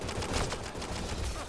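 Rapid gunfire in Mass Effect Andromeda, a dense, continuous rattle of shots in quick succession filling the whole moment.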